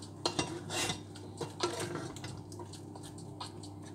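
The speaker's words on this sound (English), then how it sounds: "I'll just stir my rhubarb before I forget." A spoon stirs rhubarb in a pot on a home kitchen stove, giving a few close scraping and clinking knocks against the pot, with quieter utensil taps spread through the moment.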